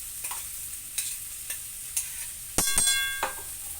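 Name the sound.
ground chili paste stirred and fried with taro curry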